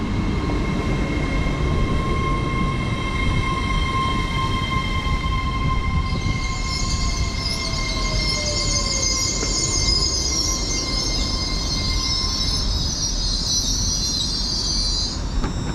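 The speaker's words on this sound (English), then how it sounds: "The East Midlands Railway should be going out in just a moment" An East Midlands Railway train departs Newark North Gate station, a steady rumbling roll with sustained high wheel squeal and hissing, heard alone with no voices.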